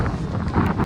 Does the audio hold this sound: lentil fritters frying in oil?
no